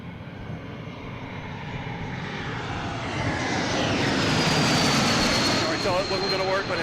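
A JetBlue jet airliner arriving from JFK comes in to land at Boston Logan, its engine roar swelling louder and nearer with a rising whine as it passes overhead, with faint voices beneath it.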